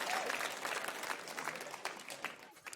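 Applause from the arena audience at the Valorant Game Changers Championship esports match in Berlin, a continuous clatter of clapping over the crowd's murmur. It fades gradually, and a commentator talks over it.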